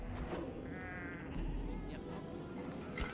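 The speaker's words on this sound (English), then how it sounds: "It's the llama. No way they brought the llama." A Lego llama in Fortnite lets out a drawn-out bleat that sounds like a sheep, heard amid game background noise with no talking.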